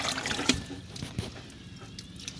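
Water running from a household tap, a soft continuous trickle and splash with a few sharper clinks and knocks close by.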